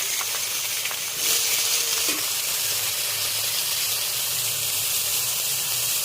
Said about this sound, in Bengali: এবার বেগুনটা একটু ভাজা ভাজা হবে।